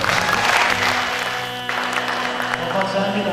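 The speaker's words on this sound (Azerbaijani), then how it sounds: "Mən şəxsən sizi alqışlayıram" Concert audience applauding, a dense sustained wash of clapping mixed with crowd noise and a voice talking over it.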